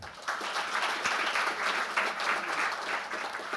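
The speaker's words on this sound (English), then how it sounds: "give him a big round of applause" An audience applauds to welcome a speaker at a talk on AI in allied health practice: dense, steady clapping that holds at an even, fairly loud level for the whole stretch, with no voices over it.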